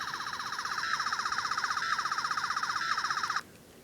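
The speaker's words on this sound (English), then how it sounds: "You press sonic screwdriver button 3 times." Electronic warbling siren-like effect from a toy 11th Doctor sonic screwdriver, triggered as an Easter egg after three button presses: a steady rapid pulsing whine with three slight dips, close and moderately loud, cutting off abruptly near the end.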